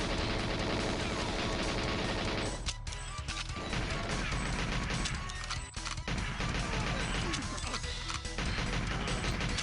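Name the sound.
rifle gunfire in a GoldenEye 007 video game mod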